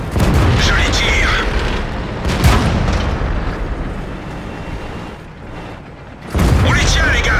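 Tank cannon fire in World of Tanks with an Object 140, heavy booming blasts near the start and again near the end, set against a continuous loud battle rumble.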